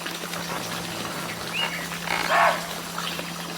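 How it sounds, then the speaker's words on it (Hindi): A barking deer calls at close range in the wild, giving one sharp, loud bark-like cry after a faint short chirp, set against a low steady hum and quiet ambient background. "बिल्कुल पास से बार्किंग डियर बोल रहा है"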